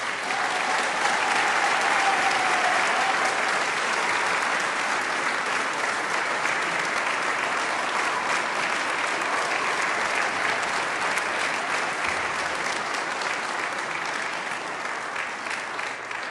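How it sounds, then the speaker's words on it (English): An audience at a nursing pinning ceremony claps steadily and loudly, a dense sustained applause that barely fades across the whole stretch. "Please give these well-deserving individuals a round of applause."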